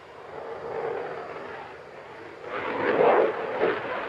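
An F-16 fighter jet climbing vertically at the Farnborough International Airshow 2024, a distant broad roar that swells and fades, peaking toward the end as it pulls skyward.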